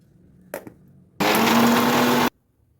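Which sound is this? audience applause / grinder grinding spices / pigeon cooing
grinder grinding spices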